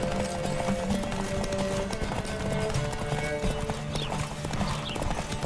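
A horse's rapid hoofbeats clatter in a fast galloping rhythm in The Witcher 3, close and steady, over a busy background of game music and ambient noise.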